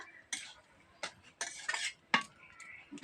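Chicken being stirred in a pan: close, scattered scrapes and metallic clinks of a spatula against the pan, about six irregular strokes with quiet gaps between, over a faint background sizzle.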